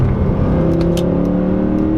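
A 2014 Mercedes C63 AMG with its factory exhaust, heard from inside as the engine drones steadily through a downshift, with a few faint pops and burbles crackling above the low, continuous hum.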